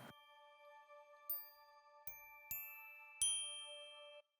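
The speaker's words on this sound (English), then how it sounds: "for percussion, we've got Zen Meditations again, some meditation chimes, just a little bit of texture in the background" Meditation chimes from a sampled percussion library ring out in four or five soft, bright strikes, each leaving a long shimmering sustain that overlaps the next; quiet, with no voices.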